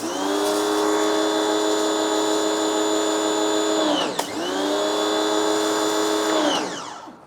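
A Turtle Wax TW135 1800W pressure washer spraying through its detergent nozzle runs loud and close, a steady whining motor tone that dips briefly midway and then winds down at the end, with no voices.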